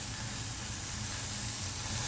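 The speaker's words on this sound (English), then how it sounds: "this is the sound I want to hear while I'm in the spa, but just the sizzling" Korean BBQ meat sizzling on a home tabletop grill, a steady, close hiss of fat and juices that holds unbroken and fairly soft throughout, with no voices over it.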